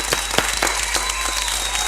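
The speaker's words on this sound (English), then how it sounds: "Clap for yourself." A television talk-show studio audience claps, a short burst of brisk, moderately loud applause with distinct individual hand claps standing out.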